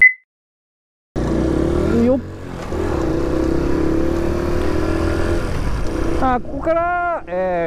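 A Honda Cub motorcycle rides along a road toward a mountain pass, its small engine humming steadily and loudly after a brief silence, easing off with a shift, then a short voice-like sound at the end.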